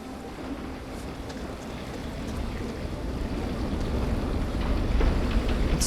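Water sloshing and churning around a turning water wheel in a valley video game scene, a steady broadband wash that slowly grows louder, with faint wind over it and no voices.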